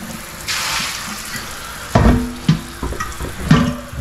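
Water splashes and sloshes inside a bucket being rinsed out during daily cleanup on a homestead milking setup, a steady broadband wash followed by several distinct close splashes and knocks.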